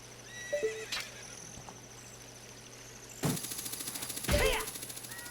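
Epona the horse in Zelda Ocarina of Time, with whinnies and a rapid, even run of hoofbeats, loud and near, set against faint game tones and short musical chimes.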